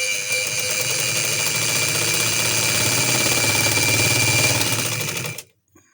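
An electric sewing machine stitches the seams of a child's umbrella frock, a loud, steady, rapid whir that runs unbroken for about five seconds before stopping abruptly.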